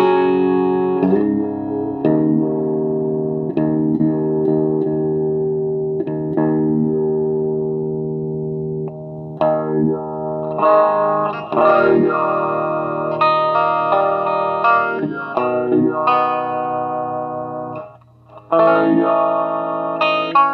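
A guitar runs through a Line 6 M5 stompbox set to its V-Tron vowel filter, each note sweeping with a vowel-like wah articulation; sustained notes and short phrases ring loud and close with reverb tails, no voices.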